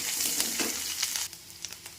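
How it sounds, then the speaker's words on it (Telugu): Onion, garlic and tempering spices fry in hot oil for a ridge gourd dish, giving a close, crackling sizzle with bright pops that thins out partway through. "కట్ చేసుకున్న ఆనియన్, తెల్లగడ్డ, పోపు దినుసులు ఇలా ఆయిల్లో ఫ్రై చేసుకోవాలి"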